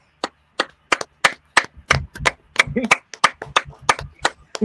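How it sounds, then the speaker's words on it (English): A run of about a dozen sharp, separate claps, loud and near, on a podcast set, with brief voices in between. "The Scotch Tots deserve this round of applause."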